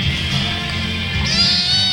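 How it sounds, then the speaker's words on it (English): A one-month-old abandoned kitten meows over a busy background of music or chatter, with a higher, clearer mew near the end. "Poor little abandoned kitten."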